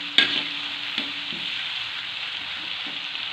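Chayote stir-fried with candlenut spices sizzles steadily in a pan close up, with a few light clicks of stirring against the metal and no talking.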